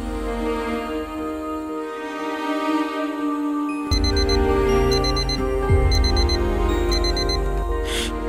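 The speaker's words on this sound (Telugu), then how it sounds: "నాకు నా అలారం సౌండ్ వినిపించింది" An alarm clock rings: a steady tone at first, then repeated bursts of high electronic beeping in a regular pattern, loud and close.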